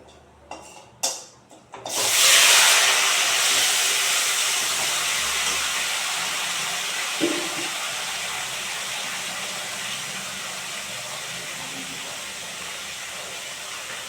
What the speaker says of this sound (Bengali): এই যে আলু করাটা ঢেলে দিচ্ছি